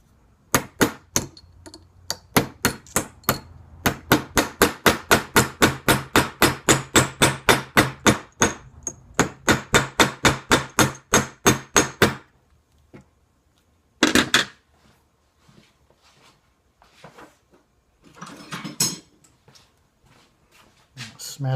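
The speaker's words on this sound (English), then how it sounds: "Okay, I'm going to take the hammer." Rapid, steady hammering on metal barrel lugs for a Brown Bess musket, dozens of sharp ringing strikes in a fast regular rhythm, then a pause followed by a few scattered clanks and rustling.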